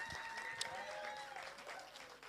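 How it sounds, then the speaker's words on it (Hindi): Faint, steady audience applause fills the room at a film trailer launch event, with a soft crowd wash and voices mixed underneath. "एक बार जोरदार तालियां हो जाए"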